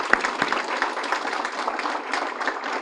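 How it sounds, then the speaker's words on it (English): An audience at a Boys and Girls Club Youth of the Year event claps steadily in moderate applause, a dense even patter of many hands for about three seconds. "So let's give them a round of applause."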